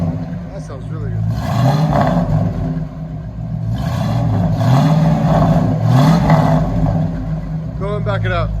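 Close, loud V8 rumble from a 1973 Ford Mustang Mach 1 with true dual Flowmaster Super 10 exhaust, revved several times in quick succession over a choppy idle, with brief voices near the start and end.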